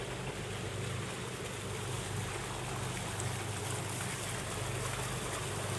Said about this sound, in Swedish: bakom oss kommer Benny, bakom två båtar